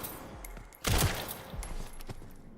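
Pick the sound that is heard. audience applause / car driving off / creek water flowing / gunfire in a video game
gunfire in a video game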